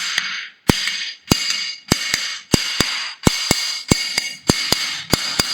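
Sharp, evenly spaced taps on hard kitchen wall tiles, each with a short bright ring, repeating steadily at close range with no talking.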